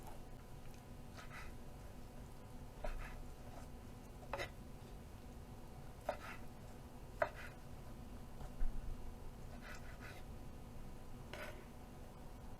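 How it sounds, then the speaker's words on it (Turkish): Chicken liver being chopped into chunks on a cutting board, with faint, irregularly spaced knife taps against the board over a quiet background. "Ardından iri parçalar halinde kuşbaşı doğrayacağız."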